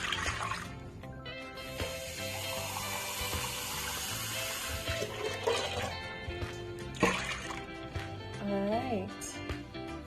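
Water pours steadily into a pot of rice and coconut milk under background music and a speaking voice, with a soft continuous splashing throughout.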